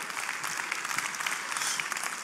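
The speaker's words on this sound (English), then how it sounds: "Applause for my friend, King James." Steady audience applause at a corporate presentation event, a dense, even wash of many hands clapping from a crowd, heard on its own without talk.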